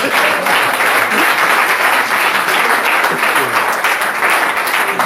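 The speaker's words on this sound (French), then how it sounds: "Applaudissez pour le Seigneur." A congregation claps in a sustained, loud burst of applause during a religious gathering, continuous for several seconds with some voices mixed in.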